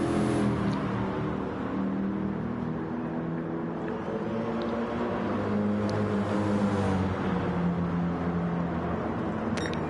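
A race car engine in a sim racing league event at Monza drones steadily as the car rounds the final corner, a sustained harmonic whine that holds close and loud throughout.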